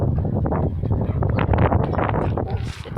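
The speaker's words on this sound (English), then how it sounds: "It's windy, so it's starting to storm outside" Gusty wind blows hard outdoors as a storm begins, a loud, rough, continuous rush battering close to the microphone throughout.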